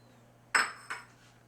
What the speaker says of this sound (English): Now we come over here to a large bowl. I'm going to put in 4 room temperature eggs.